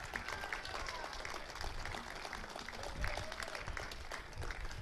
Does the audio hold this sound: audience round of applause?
yes